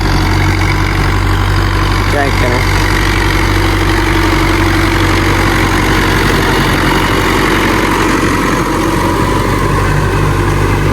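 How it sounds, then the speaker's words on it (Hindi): A tractor engine idles steadily on a field of soft, freshly worked soil after rain, a loud continuous low drone throughout with someone speaking briefly over it. "ये ट्रैक्टर आ रहा है"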